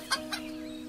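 Hens clucking on a farm, two short clucks close together near the start, then a steady background hum.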